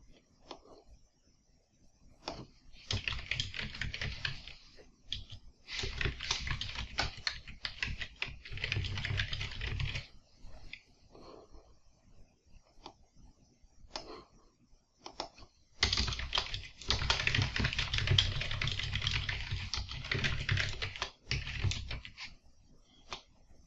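A computer keyboard is typed on while someone writes code examples and tests for a programming exercise, coming in bursts of rapid, close clicking separated by short pauses, with faint quiet sounds in the gaps.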